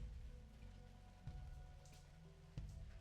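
Steady rain falls in the nighttime bridge scene of the video game Sweetest Monster, a soft, even patter with a couple of slightly louder drips, faint and alone with no talk.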